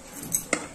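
Boiled Batrali broad beans with potato are transferred into a cooking vessel, with two quick, close metallic clinks of utensil against pot.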